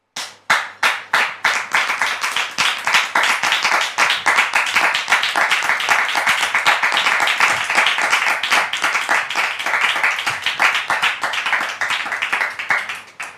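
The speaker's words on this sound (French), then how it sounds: "je voudrais donc vous demander de la recevoir avec des applaudissements" A studio audience claps to welcome a guest onto a French-language talk show, a loud, close burst of rhythmic hand clapping that starts sharply and carries on steadily for about thirteen seconds before stopping.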